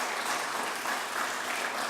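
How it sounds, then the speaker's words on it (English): A press-conference audience at a Philadelphia Adult Education Month event gives a short, moderately distant burst of cheering and clapping, a dense even wash with no pauses. "Can I hear a little cheer on that one?"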